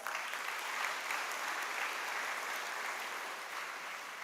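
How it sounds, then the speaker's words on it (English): Steady audience applause at a university freshers' induction ceremony in a large hall, continuous even clapping heard from a distance for several seconds. "I take this opportunity to thank her with your big round of applause."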